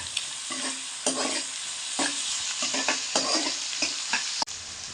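Onions frying in a pan with a pinch of salt for palak chicken, a steady loud sizzle broken by repeated scraping stirs, with no voices over it.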